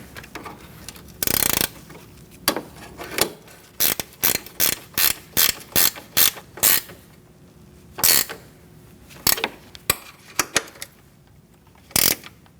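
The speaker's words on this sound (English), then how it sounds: "for that one on the inside, you're going to use a ratchet wrench to tighten it down" Ratchet wrench tightening bolts while a radiator is installed on a 2008-2014 Mercedes-Benz C300, close, crisp clicking bursts in a quick irregular rhythm, some short and some longer, with quiet gaps between.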